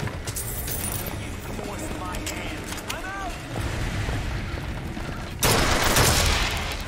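Gunfire in Bioshock Infinite crackles in quick repeated bursts over steady game noise, ending in a louder sustained blast of shots near the end.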